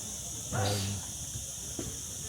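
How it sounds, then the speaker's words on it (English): A steady, high insect buzz, like cicadas, hums outdoors in Palma de Mallorca throughout, with a brief louder burst of voice-like noise near the start and a faint knock later. "insect buzzing, don't we?"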